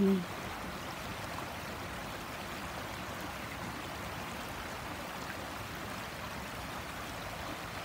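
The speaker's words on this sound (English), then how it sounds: "The water is flowing" Continuous broadband rush of a river flowing freely on a frosty morning at the edge of a town, steady and moderately near with no talking.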